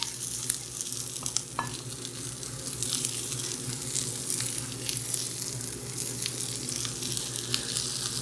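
Mexibowl ingredients sizzle and fry steadily in a pan, a constant hiss with occasional stirring clinks, close and moderately loud, with no talking.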